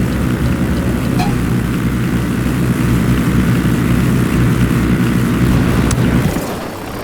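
A helicopter in the video game Ghost Recon Wildlands gives a loud, steady low rotor and engine roar that holds for about six seconds, then drops away near the end.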